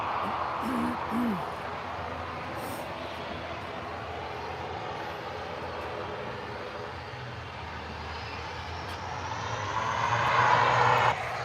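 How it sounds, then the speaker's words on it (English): Airplane engines roar during takeoff at Manchester Airport, a distant, steady jet rumble that builds and rises in pitch toward the end as the aircraft climbs away, with no talk. "I love the sound of the engines."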